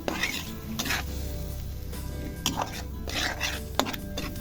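A yogurt and spice mixture sizzles in a pan as a utensil stirs it through broccoli, giving steady frying hiss broken by scraping strokes and occasional clinks against the pan, close up.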